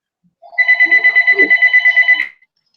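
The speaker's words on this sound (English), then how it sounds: "Phone call." A house phone rings in a steady electronic warble of rapid pulses, one continuous burst lasting nearly two seconds, loud and close, with no talk over it.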